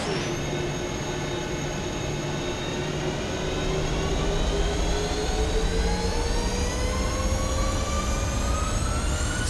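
Jet engines of a Ryanair airliner in a flight simulator spool up to takeoff thrust on the runway, a loud continuous roar with whines rising steadily in pitch throughout.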